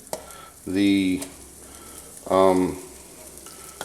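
Ground sausage meat sizzles steadily in a heated pan, a constant crackling hiss beneath two short stretches of someone talking.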